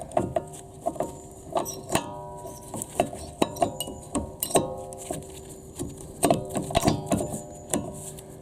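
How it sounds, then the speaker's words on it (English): Rear brake caliper on a 2013-on second-generation Ford Kuga being slipped over new rear disc pads: a series of sharp metallic clinks and rattles, close and irregular, with no talking. "just place this over, and because we've wound it back the whole way, you can see it's like that. And it will just slip over these pads"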